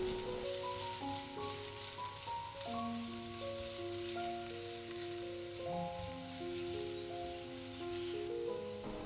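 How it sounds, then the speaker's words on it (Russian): Continuous sizzling of onions frying in hot vegetable oil in a pan, with soft background music playing throughout. "Обжариваю 2 минутки лук."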